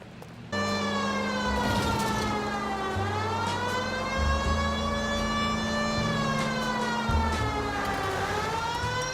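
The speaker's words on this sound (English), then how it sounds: "We have a siren." A police car siren wails in the driving game L.A. Noire, a loud rising and falling electronic tone held close over a low engine rumble, with no talk.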